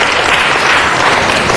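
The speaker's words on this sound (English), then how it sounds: "Let's give them a round of applause" Audience in a council chamber applauding visiting students, a loud, dense wash of many hands clapping together, steady throughout with no gaps or talk.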